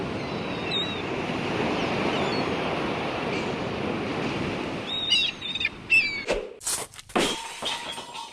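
Sea waves in the video game Новые Бременские, a steady wash of surf with chirping birds, giving way to louder splashing bursts near the end.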